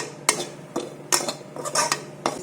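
Metal spoon scraping and clinking in a pan as coriander powder is stirred and roasted in ghee, a string of short close-up strokes with faint sizzle beneath.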